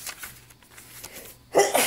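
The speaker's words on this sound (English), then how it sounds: "I feel a sneeze coming on" A single person's sneeze bursts out loud and sudden after a quiet moment indoors at a crafting table, with a second smaller burst right after.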